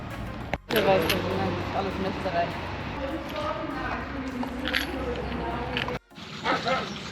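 A dog riding along on an overland trip in a Land Rover Defender gives a few short barks and whimpers over steady vehicle rumble, and people talk nearby.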